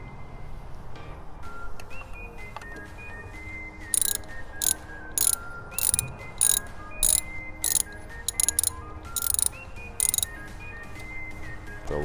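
A ratchet wrench clicks on the windshield bolts of a Honda Rebel 1100T, with quiet fiddling first and then loud, close bursts of rapid ratcheting in short repeated strokes. Nobody talks.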